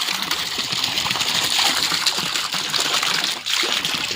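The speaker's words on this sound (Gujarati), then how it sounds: "પાણી ઝીણી પપોડી પડતી હતી એમાં પાણી બહુ નીકળતું હાથથી પકડી રાખ્યું" Water sprays and gushes from a small leak in a pipe joint, a dense continuous hiss and splatter close by and fairly loud, holding steady for several seconds with a brief dip near the end.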